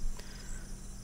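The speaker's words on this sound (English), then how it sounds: "It's just the wispy sounds of, like, crickets." Faint, steady chirring of crickets forms a continuous night ambience in the Jump King video game, with a thin high drone that never pauses and no other sound.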